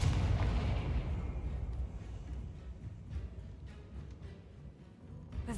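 A Confringo fire spell blast in the Hogwarts Legacy video game goes off as a heavy, booming burst at the start, then settles into a rumbling, crackling roar that slowly fades over several seconds.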